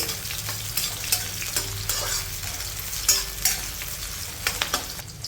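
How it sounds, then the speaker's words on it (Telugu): Green chillies frying in a pan for mutton pepper fry give a steady close sizzle, broken by occasional scraping stir sounds and soft clinks, with no talking. "ఇప్పుడు వీటిని ఒక రెండు నిమిషాలు వేగనివ్వాలి"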